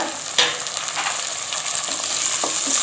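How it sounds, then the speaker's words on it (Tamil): Tomatoes and onions sautéing in a pan for tomato biryani, a steady close sizzle and hiss with a few scraping stirs, no voices. "தக்காளி சேர்த்துட்டு நல்லா வதக்கி விடணுங்க"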